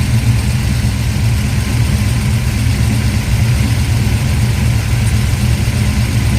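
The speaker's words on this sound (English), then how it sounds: "you should be able to reach inside the window of your car, turn the key, and the thing fire right up" A car engine with a freshly tuned carburetor idle circuit running at a steady, loud idle, a constant low rumble close by with no talking.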